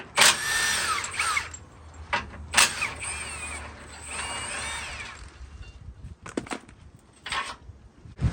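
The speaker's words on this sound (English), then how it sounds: "I'm just going to use an impact gun here with an 18mm socket." An impact gun fitted with an 18mm socket rattles off the bolts on a Jeep's recovery hook, with several sharp, loud hammering bursts of varying length and short pauses between, close up and with no talk.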